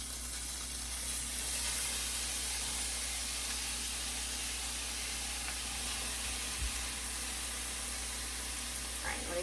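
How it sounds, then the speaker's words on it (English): Fresh lump crab meat sizzling in a hot pan, a steady, even hiss of frying that holds at a low, constant level throughout without any talking. "here are my two different kinds of crab going in here"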